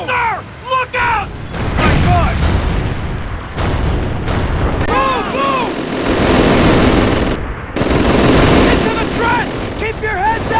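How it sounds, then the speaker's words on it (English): Machine gun bursts and 88mm artillery fire in a Call of Duty battle, with heavy booms and rattling gunfire under shouting voices, loud and chaotic throughout. "Machine guns and 88s are ripping them apart."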